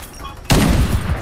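Gunfire in Farlight 84 erupts abruptly after a short quiet stretch, becoming a loud, dense volley of rapid shots that holds steady to the end.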